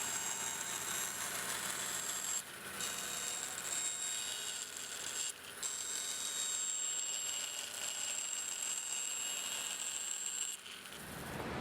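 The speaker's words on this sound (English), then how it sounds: "I'm going to then take that plywood over to the bandsaw and cut through the center line of those two holes." A bandsaw rips through plywood along a line between two drilled holes, a steady loud high whine and buzz running continuously with two brief dips before cutting off at the end.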